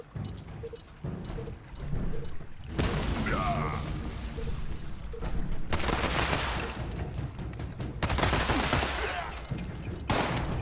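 Gunfire in Fallout 76: long bursts of rapid automatic shots in several sustained volleys separated by short gaps, loud and near, with someone talking at times.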